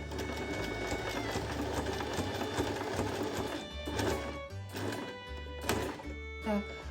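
A domestic sewing machine stitches a zigzag along an ornament, its rapid mechanical needle rattle running continuously and close, with brief pauses and thunks as the fabric is turned at corners.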